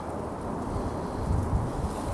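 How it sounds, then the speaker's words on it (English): Wind buffets the microphone with a low, rumbling rush that swells and gusts slightly, steady and close with no other sounds. "it's a little windy out here too"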